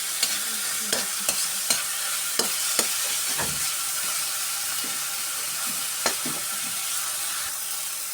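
Onion frying in a pan for an omelette, a steady bright sizzle with irregular close scrapes and taps from stirring, one deeper thump midway.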